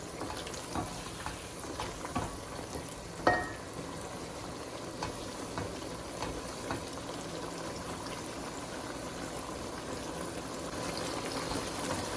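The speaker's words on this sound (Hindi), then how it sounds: "अभी हम इसको भून रहे हैं हाई फ्लेम पर ही" Low sizzling and bubbling of achari chicken curry with yogurt frying in a pan on high flame, a steady hiss with a sharp clink early on and no voices.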